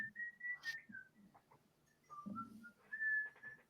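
Someone whistles a wandering tune in a few thin notes, soft and slightly distant, with small background knocks between phrases.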